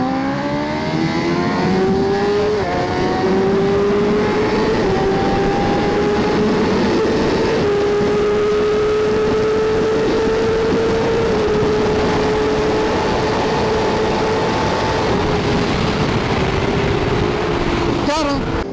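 Sport motorcycles, a BMW HP4 and a Yamaha R1M, race side by side, engines screaming and rising in pitch through several upshifts in a loud, sustained high-revving run that fades near the end.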